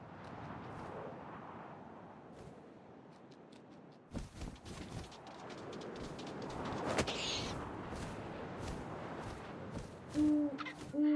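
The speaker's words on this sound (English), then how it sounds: "And suddenly, I was an owl." Owl hoots in the video game What Remains of Edith Finch over a breezy outdoor ambience, with soft thumps and rustles, then a couple of clear low hoots close by near the end.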